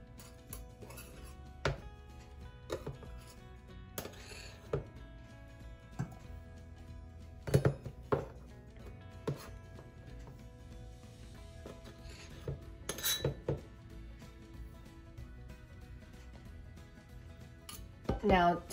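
All-purpose flour for fry bread is mixed in a small bowl, with scattered sharp clinks and scrapes of a utensil against the bowl over quiet background.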